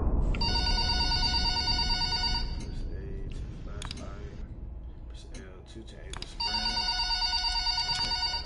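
A telephone rings in the Five Nights at Freddy's video game: a burst of bright electronic trilling, a pause filled with muffled background noise, then another ring, all over a low steady rumble.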